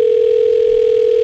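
A telephone dial tone on a call to Hawaii hums as a steady, loud, unbroken single tone with faint line noise beneath, with no voices.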